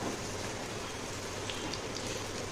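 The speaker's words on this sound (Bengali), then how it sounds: "গ্যাসটা একটু কম করে আর ভেজে নেব সব বড়াগুলো।" Leafy-green fritters fry in mustard oil over a lowered gas flame, giving a steady, soft crackling sizzle like light rain that holds at an even level throughout.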